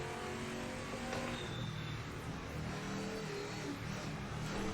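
A race car in the Project Motor Racing video game accelerates out of a corner, its engine a steady, fairly faint drone that holds throughout.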